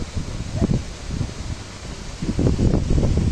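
Wind gusts across the mic beside a lake dam with an overflow at Khanda Rani Lake, Belpahari, a rough, buffeting rush that swells louder toward the end.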